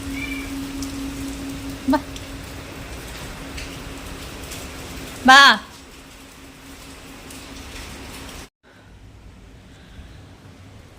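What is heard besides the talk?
rain falling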